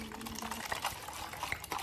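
A drink is poured into a cup up close, a short continuous liquid splash lasting under two seconds with no voices over it.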